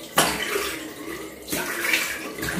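Water runs steadily from a tap or hose to wet the face during a skin care routine, a close, continuous rushing splash that surges twice.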